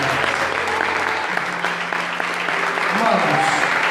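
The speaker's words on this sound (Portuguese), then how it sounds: "Aplauda o Senhor" A church congregation claps loudly and steadily for several seconds at the close of a worship conference, with voices mixed into the dense applause.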